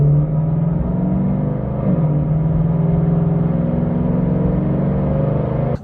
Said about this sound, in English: It does have a full Borla S-type catback exhaust on it.